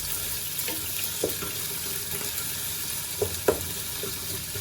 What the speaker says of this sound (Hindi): मैं इसमें डाल रही हूँ प्याज और इनको मैं ब्राउन करूँगी अच्छी तरह से